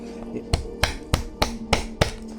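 A hammer cracking nuts, heard as six sharp, evenly spaced knocks about a third of a second apart, close and crisp, with no voices.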